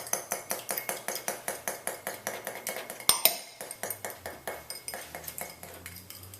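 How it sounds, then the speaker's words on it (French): An egg is whisked with olive oil in a bowl, producing quick, rhythmic clinking taps of utensil against the dish, steady and close, with one sharper knock midway. "On casse l'œuf. Et on le mélange avec l'huile d'olive."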